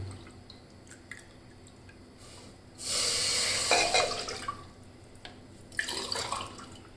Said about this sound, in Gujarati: હવે આપણે સગડી પર એક કુકરમાં બે ગ્લાસ જેટલું પાણી લઈશું